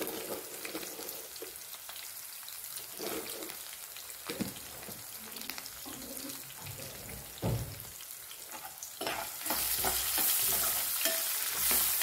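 Rava pulihora ingredients fry in a pan with oil, giving a steady sizzle and crackle. Stirring scrapes and knocks sound through it, and the frying grows louder toward the end.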